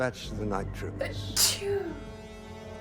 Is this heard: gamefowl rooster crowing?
no